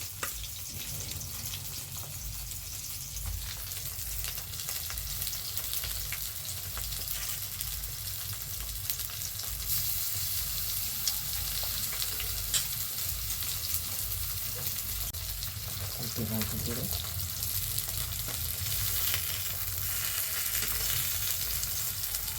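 Sliced cabbage frying in a small amount of oil in a vegetarian home kitchen, giving a steady, dense sizzle that holds evenly throughout, close and fairly loud, with no voices.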